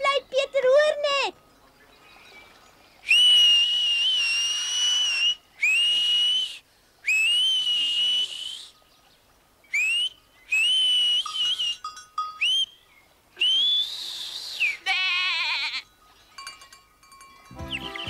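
A young girl whistles in a series of bright, sustained shrill notes with pauses between them, close and loud, with brief talk at the start and end.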